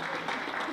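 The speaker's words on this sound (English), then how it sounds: "let's please give her a big round of applause" A crowd at a Dorchester winter farmer's market celebration applauds the city council president, a brief, moderately loud stretch of steady clapping.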